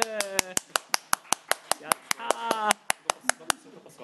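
Steady rhythmic applause from a small group welcomes a guest on a shogi show, sharp close claps in an even beat, with voices talking and reacting over the clapping.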